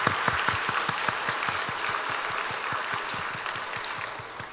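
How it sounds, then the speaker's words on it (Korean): A church congregation applauds during a Sunday service, a warm wash of many hands with a prominent rhythmic beat of unison clapping running steadily through, at moderate level with no talk. "우리 박수하겠습니다."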